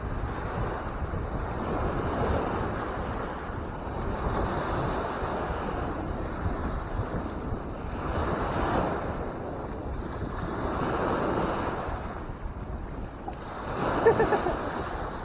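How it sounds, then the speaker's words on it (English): Big waves crash repeatedly onto the shore at Tawas Point State Park on Lake Huron, a loud, rolling surf with broad swells every few seconds, mixed with steady wind buffeting the microphone. "You've never seen waves this big, buddy."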